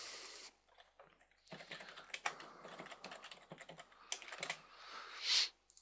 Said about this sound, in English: And now we type these in.